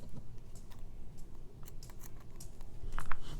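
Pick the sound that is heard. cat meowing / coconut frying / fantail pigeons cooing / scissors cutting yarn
scissors cutting yarn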